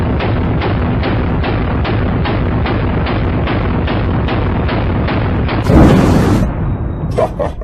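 Gunfire aimed at a Bible comes as a rapid, evenly spaced string of loud, distorted shots, roughly two per second. The string ends with a harsher, louder burst and then some scattered noise.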